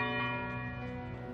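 A solemn bell tolls at a memorial ceremony outside the motel where Martin Luther King Jr. was shot, one long ringing tone with a steady humming resonance and no voices.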